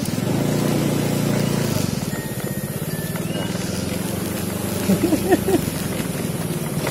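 A motorcycle engine hums along a rough, bumpy village road in Tasikmalaya, a steady low drone that eases off after the first couple of seconds while people talk close by.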